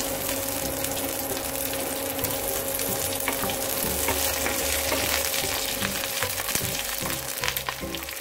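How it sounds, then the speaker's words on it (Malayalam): Dried red chilies and curry leaves sputter and sizzle in hot oil for a Kollam-style coconut fish curry, a continuous close crackling fry with a faint stirring scrape. "ബ്രൗൺ നിറം ആകുമ്പോഴത്തേക്ക് നമുക്ക് ഇതിലേക്ക് വറ്റൽമുളകും കറിവേപ്പിലയും ആഡ് ചെയ്ത് കൊടുക്കാം."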